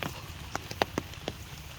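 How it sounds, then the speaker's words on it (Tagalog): Rain spatters onto a muddy farmyard where chickens gather, a soft steady wash broken by a few sharper drips and splashes close by, with no voices. "grabe ang ulan dito sa amin"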